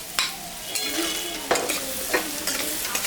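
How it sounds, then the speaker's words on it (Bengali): Onions frying in a pan sizzle steadily up close, while a spoon makes repeated scraping stir strokes at a loose, regular rhythm. "পেঁয়াজটা ভাজা ভাজা হয়ে গেছে।"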